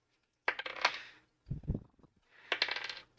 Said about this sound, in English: Let's not drop the dice.